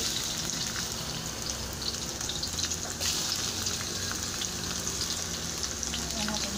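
Garlic frying in a pan for pancit, a steady, dense sizzle that stays close and loud throughout with faint clinks of stirring, no talking.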